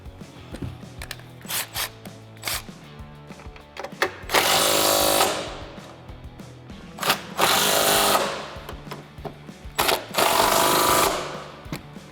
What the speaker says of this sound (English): Now we're going to install our 13 millimeter nuts back on top and tighten these up.